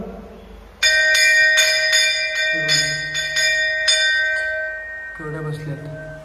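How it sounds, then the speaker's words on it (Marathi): Inside the Karneshwar temple, a temple bell is struck repeatedly in an uneven rhythm, each clang ringing bright and long, with a voice talking softly underneath. "इथे घंटा वाजव."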